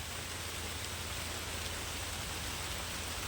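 Heavy rain pours down in a dense, unbroken hiss, close and constant with no pauses.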